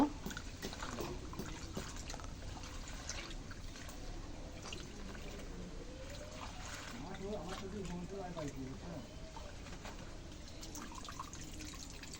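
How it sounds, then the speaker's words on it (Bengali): Malabar spinach leaves washed in water, a soft continuous splashing and trickling that runs for the whole stretch, with a voice briefly audible in the background partway through. "তো এখন পুঁইশাকগুলো ধুয়ে দিব"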